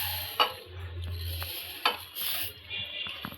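Sugar poured into a metal pot for sweet bundi syrup, with a few short scraping and stirring clinks close by, quiet and alone without talk.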